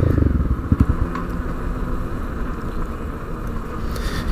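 Honda CRF 250L motorcycle engine droning steadily while riding, a loud continuous low rumble with wind buffeting throughout, a brief burst of clatter near the start.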